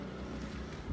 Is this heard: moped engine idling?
yes